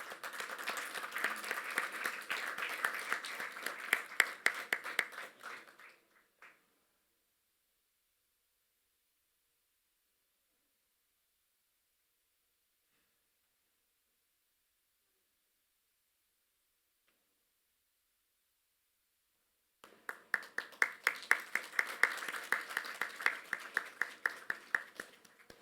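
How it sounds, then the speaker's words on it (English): Audience applause at a G20 Interfaith Forum education session in Pune, India: a dense burst of clapping fades out, a long silence follows, and a second round of applause rises and carries on to the end. "Can we have a huge round of applause for him?"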